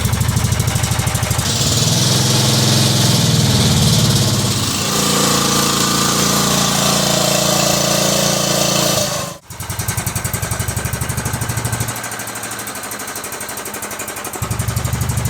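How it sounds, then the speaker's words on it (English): Loud, continuous idling of a Cub Cadet 2166 lawn tractor engine with an exhaust and head gasket leak, a rough rattling chug that dips briefly and sags as if near stalling, then carries on without speech. "You can actually hear the exhaust and head gasket leak now, I think."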